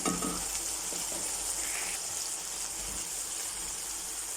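Chicken liver fries in a pan with red chilli and turmeric, hissing in a steady, dense sizzle with a few stirring scrapes and crackles at the start. It is close and loud, with no voices.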